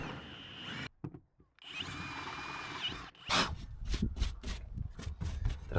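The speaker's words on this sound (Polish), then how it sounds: "I wiertłem 13 poszerzyłem otwory tak, żeby zmieścić w nich później nitonakrętkę" Power drill fitted with a 13 mm bit widening holes in a camper van roof, loud and close, with a steady whirring run followed by a series of short, choppy bursts as the bit bites.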